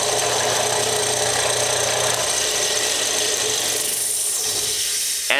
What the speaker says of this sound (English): lay it on there when the machine's on, and grind that angle